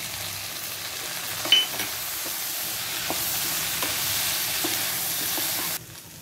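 Sausage and bell pepper stirred in a hot pan, a steady broadband sizzle with a few soft spatula scrapes and clicks, close and continuous, cutting off abruptly near the end.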